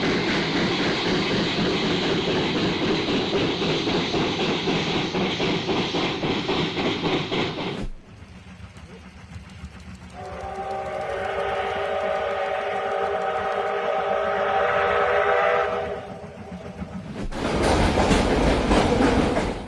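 A large steam train hauling coal wagons on a main line: loud rolling rail rumble and rhythmic clatter, broken by a sudden cut to a quieter stretch with a long sustained whistle tone, then the heavy rolling noise returns.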